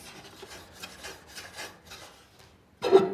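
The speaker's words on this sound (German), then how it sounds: "Man hört jetzt noch ein bisschen Schleifen auf der Oberfläche" Soft rhythmic rubbing and grinding strokes of paint pigment being ground on a hard surface, a series of quiet rasping passes ending in a brief louder scrape.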